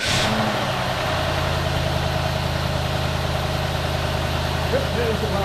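A 2001 Cadillac Deville with a Northstar engine, recently fitted with a replacement spark plug and suffering a blown head gasket, cranks briefly, then catches and idles steadily in a loud, even, close drone.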